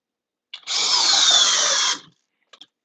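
A cordless drill on a 2 amp-hour stacked lithium battery drives a 3/8 by 6 inch screw in one loud, sustained, high-pitched whine of about a second and a half, then goes quiet, followed by two faint clicks.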